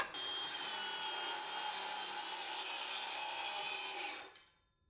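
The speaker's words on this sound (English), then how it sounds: "So let's cut the end off this 1/2 inch piece of plywood." A Skil GuideRail CRT0702 track saw with a 60-tooth fine-finish blade cuts clamped half-inch plywood with a bright, steady whirring rasp that runs for about four seconds and then winds down quickly.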